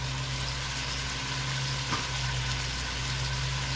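Onions and lean ground beef, still a little frozen, saute together in a pan with a steady, even sizzle that holds throughout, with no talking.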